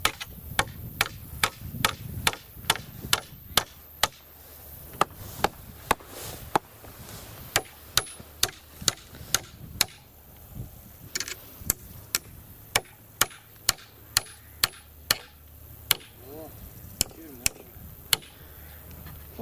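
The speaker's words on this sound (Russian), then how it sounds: "Давай, Михаил, прибивай" Nails being hammered into a shelter built from branches, sharp strikes landing in quick irregular runs, some bursts fast and some spaced out, fairly close with faint background noise and occasional voices.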